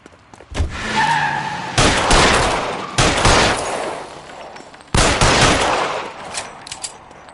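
Gunfire in a 1950s crime film, several loud sharp bursts and volleys crack out in quick succession with echoing tails, mixed with screeching tire and car noise.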